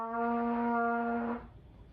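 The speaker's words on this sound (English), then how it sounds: "But obviously when you put it into a trumpet, it's gonna sound like this." A single sustained trumpet note with a rich stack of harmonics, held steadily for about a second and a half, then cut off, leaving a short quiet tail of room sound.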